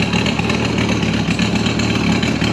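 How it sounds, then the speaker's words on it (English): A Mercury 50 hp outboard motor idles steadily and loudly up close, a continuous even engine note with no talk over it. "But we're gonna let this thing run for a little bit."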